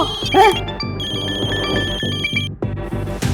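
A telephone bell rings insistently in repeated bursts with a layered, jangling tone, filling the room loudly with no talking over it.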